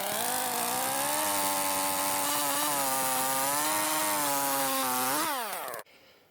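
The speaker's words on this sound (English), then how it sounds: "And I'm going to square up the ends right here with my chainsaw." A chainsaw runs steadily at high revs, squaring up the ends of a wooden post for an off-grid cabin outhouse, then the engine winds down and cuts off near the end.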